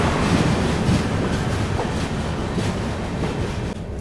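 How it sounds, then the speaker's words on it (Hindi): A train on the Guwahati–Sairang line in Mizoram rolls onto the tallest pier bridge on the route, a loud, continuous rumble with rhythmic wheel clatter throughout, fading slightly near the end. "यहाँ पर अपनी ट्रेन एंटर हो रही है टॉलेस्ट पियर ब्रिज पर"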